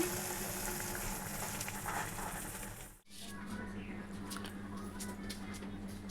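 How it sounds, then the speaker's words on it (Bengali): Bora fritters fry in hot oil, a steady close sizzle that cuts out briefly midway and then returns with lighter crackles and pops, no voices heard. "এই যে বড়া ভেজে দিচ্ছি"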